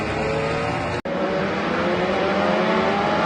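Indy Lights race cars at the Mid-Ohio Sports Car Course, a loud continuous engine drone with shifting pitch and a brief dropout, heard near the track with no talking.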